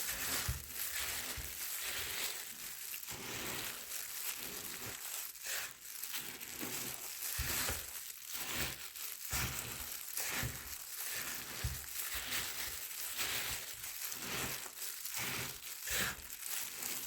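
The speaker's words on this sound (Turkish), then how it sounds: "Kaşıkla ya da elinizle elinize bir eldiven takarak karıştırın." A spoon stirs Ariel powder detergent mixed with Calgon, giving a steady gritty crunching and scraping with rhythmic rasps over about seventeen seconds, close and fairly quiet, with no voices.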